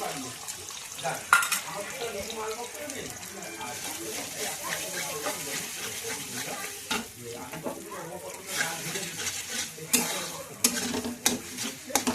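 An egg fries in a wok on a home stove, a continuous crackling sizzle with occasional stirring scrapes and clatter, close by, with a voice talking over it at times.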